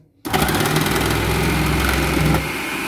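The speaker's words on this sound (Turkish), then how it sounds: "Şimdi salatalık dilimleyeceğiz. İnce ince dilimleyecek bakalım." A Siemens MK3501M food processor starts abruptly and runs with a loud, steady whirring motor hum while thinly slicing cucumber, then cuts off near the end; close and dominant, no talk.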